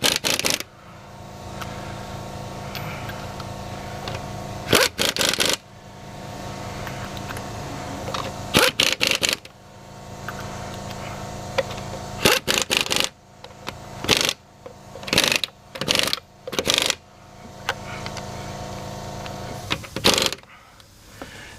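Aircat Nitrocat 1056-XL stubby impact wrench working on a wheel of a car raised on a jack, short loud bursts of rapid hammering separated by pauses, several in quick succession toward the end.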